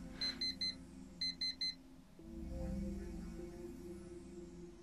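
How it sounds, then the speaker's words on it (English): An alarm clock rings in the video game Actual Sunlight, two quick bursts of three sharp, bright electronic beeps each, followed by a low swelling ambient hum. "Somebody turn off that damn alarm clock."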